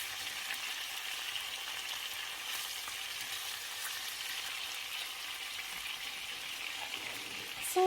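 Pumpkin pieces and onions fry in a pan, producing a faint, steady crackling sizzle that holds evenly throughout, with a small knock right at the end.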